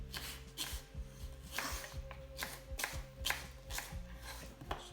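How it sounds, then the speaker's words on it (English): A knife chops roughly through skin-on apples for chutney on a board, a close series of about a dozen sharp, fairly regular cuts. "So my carefree cutting of apples"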